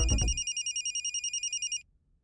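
A telephone rings with a loud, electronic, rapidly pulsing trill that repeats in even beats before stopping abruptly, after a brief thump at the start.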